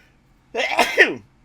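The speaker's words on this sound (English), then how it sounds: "I have to sneeze." A single sharp sneeze bursts out close up, a quick intake followed by an explosive, breathy release, then quiet.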